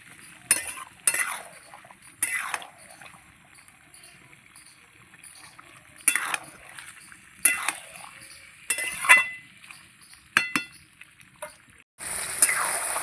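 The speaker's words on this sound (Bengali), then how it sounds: "এবার আস্তে আস্তে করে বেশি করে জাল দিয়ে মাংসটা কষিয়ে নেব" Meat is stir-fried in a pot with a utensil, producing irregular scraping strokes and metallic clinks every second or two against a quiet background, ending in a brief burst of louder sizzle.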